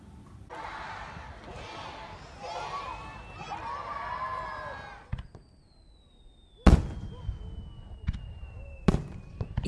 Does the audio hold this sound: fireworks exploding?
yes